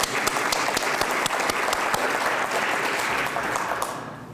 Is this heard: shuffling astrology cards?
no